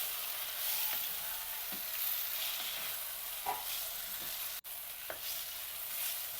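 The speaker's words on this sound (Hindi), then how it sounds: "अब मैं इसमें डाल देती हूँ साग और इसे भी कुछ देर में भूनूंगी" Onion and siliyari greens frying in a pan while being stirred, a steady quiet sizzle with occasional soft scraping strokes and a few clinks of the spoon, close and continuous with no talking.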